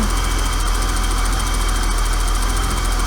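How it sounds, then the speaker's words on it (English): A BMW E32 735iL engine idles steadily after fitting new injectors, a loud continuous low rumble with a slight rhythmic pulse and faint unevenness, close up with no talking. "the engine seems smoother with the new injectors. There is a bit of idle hesitation"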